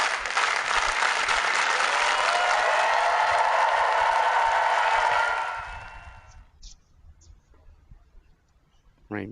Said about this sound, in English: Give me that slow clap